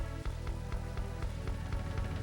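Rain falls on a golf course in the Hot Shots Golf video game on the PS1, a soft continuous patter behind a regular thumping pulse of game music.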